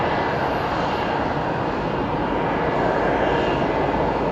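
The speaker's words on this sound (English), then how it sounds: "I think this is the Amsterdam-Atlanta flight" An airliner, likely on the Amsterdam–Atlanta route, passes over Hartsfield-Jackson Atlanta airport with a loud, steady broadband engine roar that holds nearly constant throughout.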